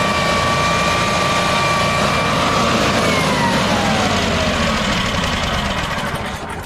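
A generator engine running on LP gas drones steadily up close, a loud, continuous mechanical hum with a faint whine that shifts in pitch and eases off slightly at the end.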